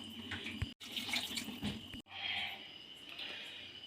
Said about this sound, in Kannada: ಹಾಗಿಂದ 4 ಗ್ಲಾಸ್ ನೀರು ಹಾಕ್ತಾಯಿದ್ದೀನಿ.